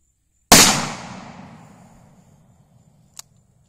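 A single sharp revolver shot cracks at an outdoor shooting range, its report decaying over about a second and a half, followed by a faint click.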